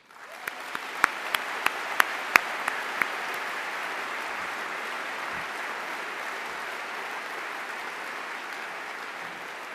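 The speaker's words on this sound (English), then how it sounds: "I would like to thank our two speakers and our moderator with another round of applause." Audience applause fills a hall at the close of a science-and-God debate, a steady, sustained wash of clapping lasting throughout, with a few sharper individual claps standing out near the start and no voices over it.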